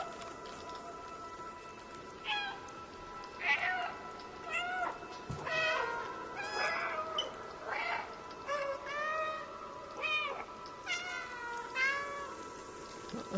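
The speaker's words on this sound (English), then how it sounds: "So when you meow, the other cats meow too." Several cats meow in the video game Stray, calling in turn and answering one another in short, overlapping cries over a soft, steady hiss of rain.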